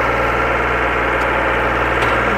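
A Powertrac 439 Plus tractor engine runs close by, a loud, steady low rumble and throb with a constant vibrating hum and no speech.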